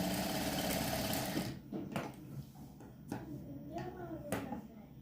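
A sewing machine stitches a blouse seam, running loudly and steadily for about a second and a half, then giving way to quieter intermittent machine noise and handling sounds.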